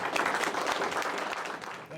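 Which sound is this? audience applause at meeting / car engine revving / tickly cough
audience applause at meeting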